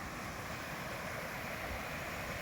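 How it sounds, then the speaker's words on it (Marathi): Swollen stream after heavy rain, rainwater rushing steadily past at close range, a continuous broad roar and wash with no pauses and no voices. "एवढं पाणी आता तरी वाहत आहे"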